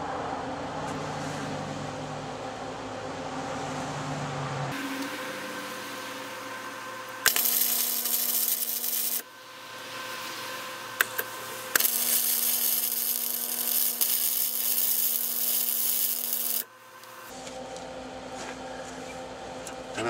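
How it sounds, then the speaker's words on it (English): A swivel hitch is welded onto a homemade ATV trailer: two long bursts of harsh, crackling arc noise ride over a steady electrical hum, separated by quieter pauses. "I want to go around and make these really strong welds"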